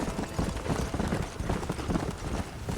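Horse hooves galloping in the video game Red Dead Redemption, a rapid steady clip-clop rhythm over a dense rumbling bed, continuous and fairly even in level.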